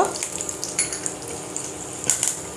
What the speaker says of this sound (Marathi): आता ह्यातच घालत आहे कढीपत्त्याची पानं, सोबतच 1 छोटा पाव चमचा इतका हिंग.